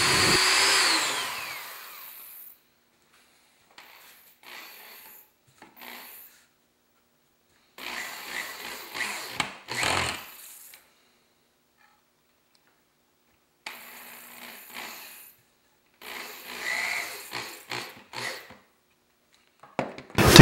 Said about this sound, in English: Drill pilot holes through the legs to attach the support board.